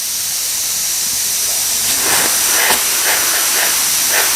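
A sandblast nozzle fed from the bottom valve sprays air and grit in a constant loud hiss, with rougher gritty spurts pulsing through the second half.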